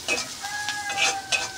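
Onion and chili sizzle in a frying pan with leafy greens, crackling softly and close, while a utensil scrapes and stirs at a few quick intervals.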